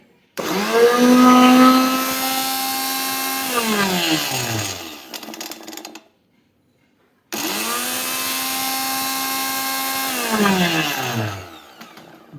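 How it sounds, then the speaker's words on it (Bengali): A Saffron electric blender grinder for spices and grains spins up loudly, runs with a rising whine, winds down, then after a short silence starts again for a second equally powerful run. "এবার আমি এটা অন করব এটা একটু এদিকে ঘুরিয়ে দেবেন"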